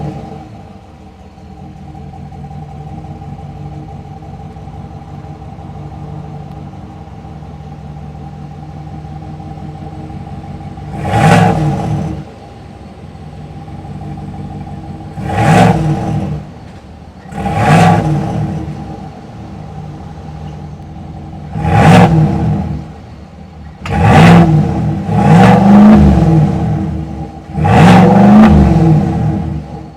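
A 2025 GMC Sierra 1500 Denali Ultimate's 6.2-liter V8 with active exhaust idles with a low rumble, then gets revved in six or seven loud, rising blips, spaced a few seconds apart and growing more frequent toward the end.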